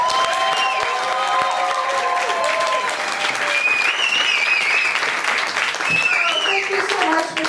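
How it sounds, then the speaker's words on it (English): A comedy show audience applauding a performer, loud sustained clapping and cheering from a crowd, with whoops and a voice rising over the applause. "Please, let me hear a big round of applause for your first performer tonight."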